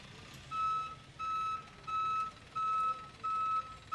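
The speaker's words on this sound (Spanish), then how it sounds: "la grúa de tránsito está operando" A traffic tow truck working to remove an abandoned car on a street sounds a loud reversing alarm, with five steady evenly spaced beeps over a low background hum.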